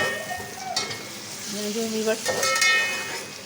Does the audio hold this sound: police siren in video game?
no